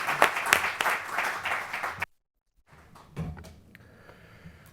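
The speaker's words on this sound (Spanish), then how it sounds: "os pido un aplauso" An audience applauds at a book presentation. A short burst of clapping stops abruptly, then quiet room noise and a few scattered knocks follow.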